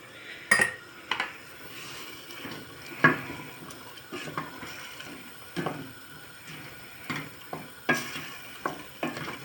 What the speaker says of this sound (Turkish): Bağlayarak, kapatarak biraz kavuracağım yemeğimi ara ara karıştıracağım.